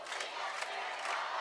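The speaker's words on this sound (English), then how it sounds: "North Scott crowd getting real loud." The North Scott home crowd at a high school football game against Muscatine roars in a broad, distant wash of cheering and yelling, with swells of shouting rising through a sustained noisy hum.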